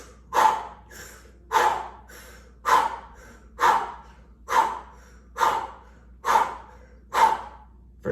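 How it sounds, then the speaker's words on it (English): Slow meditative breathing recorded close and clear: eight deep, evenly spaced breaths, each a breathy rush about a second apart, with quiet between them. "You're inhaling and exhaling."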